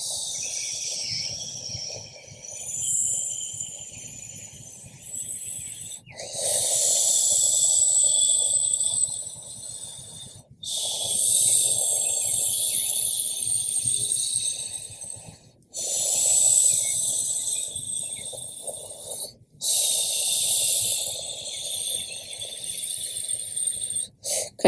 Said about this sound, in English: Continue breathing in through the mouth as if you have a straw in your mouth, and exhaling the same way.